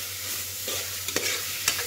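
A mixture of mint leaves, coriander and tomatoes fries in a pan for bagara rice, with a soft continuous sizzle and a few scraping stirs of a spoon.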